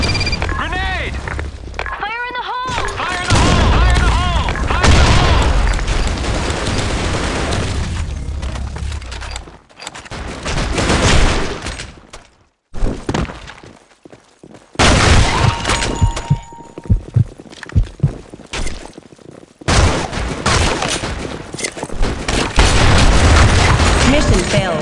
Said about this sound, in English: Grenade! Fire in the hole!